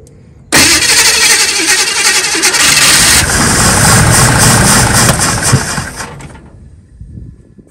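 The engine of a 1963 Chevrolet Nova coupe with carburetor trouble catches abruptly and runs loudly and roughly for several seconds, then dies away as it runs out of fuel, leaving quiet.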